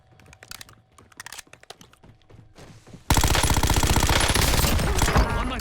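Video game gunfire with the weapon running low on ammo: sparse sharp shots at first, then from about the midpoint a loud, dense burst of rapid fire that continues to the end.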